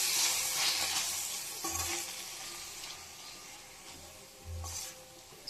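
Spinach sizzles and fries in a pan while being stirred, with steady hiss and a few soft scraping stirs and low thumps of the spoon against the pan, no talking.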